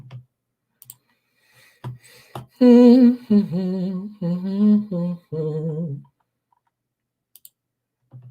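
A computer mouse clicks a few times at the start and end, sharp and sparse, with a louder tonal, voice-like passage sounding in between.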